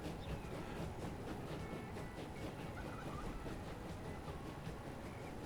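An express train rushes past in the Transport Fever 2 video game, a faint, steady rumble with a soft rhythmic clatter of wheels and no voices over it.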